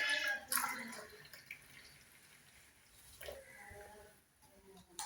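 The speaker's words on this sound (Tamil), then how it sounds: "நாங்கள் இப்போ டீயை வந்து கப்பில் விட்டுட்டு சர்வ் பண்ணுவோம்" Strained black tea poured into a cup makes faint intermittent trickles and drips, quiet and close, with a brief splashy burst near the start and small pours later.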